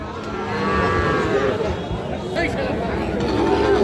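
Sahiwal bulls and calves at a busy cattle market in Ghoraghat, Dinajpur, give loud, drawn-out moos over a constant hum of crowd chatter.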